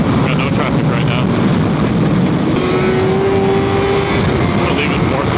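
Honda CBR 600RR motorcycle with a fault, ridden at speed around Roebling Road Raceway, its engine a steady loud drone under heavy wind roar, pitch rising in one sustained pull through the lap.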